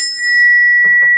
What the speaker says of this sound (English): Oh, I have a bell.